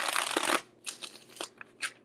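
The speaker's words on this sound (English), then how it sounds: "Let me shuffle these really good before I go to Cancer." Tarot cards are shuffled close up, with one dense riffle first and then a few lighter, scattered flicks and taps. The sound is quiet and heard on its own.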